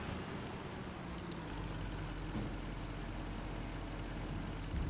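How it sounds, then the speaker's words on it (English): A Zetor tractor engine in Farming Simulator 25 drones steadily at a low idle, a dull, even rumble that holds throughout at moderate loudness, with a couple of faint clicks. "Oh, I love the Zetter. Yeah, it's a nice little tractor."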